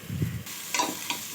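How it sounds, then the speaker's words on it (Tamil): Diced potatoes and carrot sauté in a pan for vegetable biryani, giving a steady close sizzle with a couple of scraping stirs. "உருளைக்கிழங்கு வெட்டி அதில் போட்டு வதக்கிட்டுருக்கோம்"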